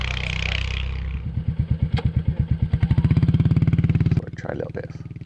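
Royal Enfield Classic 350 single-cylinder motorcycle engine thumping steadily as it rides, building from slow pulses to a rapid, fairly close beat; wind rushes at the start and a voice speaks over it.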